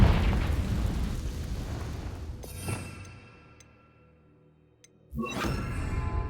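The Confringo blasting spell from the video game Hogwarts Legacy erupts in a loud, rumbling explosion that fades away, followed a couple of seconds later by another heavy burst.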